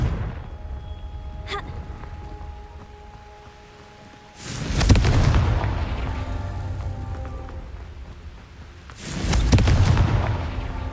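Two Confringo blasting-curse explosions from Hogwarts Legacy, several seconds apart, each a loud, sudden boom that fades into a long, rumbling tail over quiet background noise.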